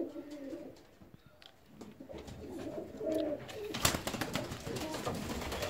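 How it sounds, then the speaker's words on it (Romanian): Young feather-footed fancy pigeon chicks coo softly nearby, low throaty murmurs rising and falling, then a busier stretch of clatter and louder movement toward the end, with no talking. "vreau să vă prezint puișorii care sunt puțin îmbrăcați în pene"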